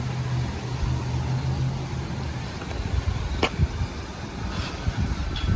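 An E-Revo 2.0 RC car's electric motor turning over at its lowest power, a soft steady whir with faint clicks and rattles, near and fairly quiet, no talking.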